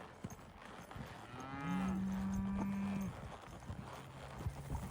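A single drawn-out cow moo rises out of quiet outdoor ambience near Ten Sleep, Wyoming, with faint hoof sounds and shuffling around it.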